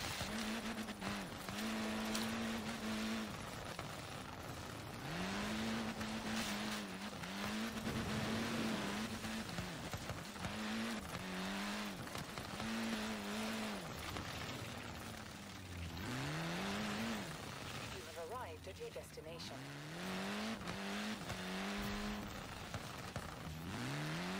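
A car drifting through a drift zone in Forza Horizon 4, its engine revving up and dropping again and again in a rough, uneven rhythm, loud and close, with tyres squealing through the slides and no talking.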